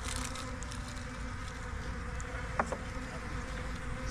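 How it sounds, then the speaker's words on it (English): A dense, continuous hum of many honeybees buzzing close by around a hive, steady and droning throughout, with a brief faint tap partway through. "Let the bees move out the way."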